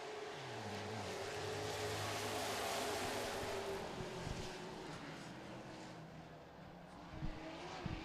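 Super stock race cars roaring as they take the green flag in a heat race, a dense, sustained engine drone with shifting pitches and a few sharp knocks near the end.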